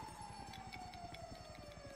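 An ambulance siren in Grand Theft Auto 5, a steady wailing tone held close and clear over a rapid pulsing rumble, with no talk.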